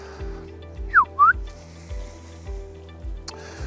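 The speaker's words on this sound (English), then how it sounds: "That slightly different whistle you just heard there is his turn." A dog handler's turn whistle for a trained deer dog: two quick notes, one falling and one rising, sound close over a soft repeating low thump, followed by a brief sharp click.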